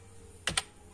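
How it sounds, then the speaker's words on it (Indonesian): Two quick clicks as the Enter key is pressed on a computer keyboard, close and crisp in a quiet room. "Tekan enter ya."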